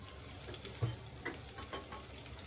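Ginger-garlic paste, made with ten to twelve garlic cloves and a little ginger, roasts in a pan for a spinach bhaji, giving a faint, steady sizzle with a few soft spatula scrapes.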